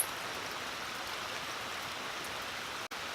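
Water drains steadily from a Jandy CL 580 cartridge pool filter during a cartridge replacement, a faint, even, hissing trickle heard alone with a brief dropout near the end.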